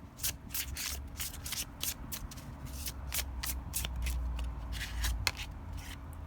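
Tarot cards are shuffled close up in a quick series of crisp riffling flicks and slides, steady and fairly quiet, with no talking.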